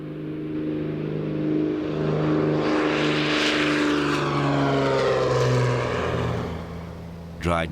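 Propeller aircraft passing overhead while dropping poisoned fox bait over Australian countryside, a loud droning engine swelling and fading as it flies by, with a brief knock at the end.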